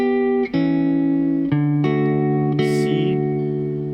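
Guitar playing the short bridge of a song with simple two-finger chords, a handful of strummed changes ringing cleanly, close and moderately loud, with no voice over it.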